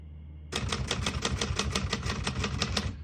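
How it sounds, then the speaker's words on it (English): A 1959 Royal Heritage portable typewriter clacks in a steady run of crisp keystrokes, close and clear, after a brief quiet start. "We're going to keep it on single for now and finish typing."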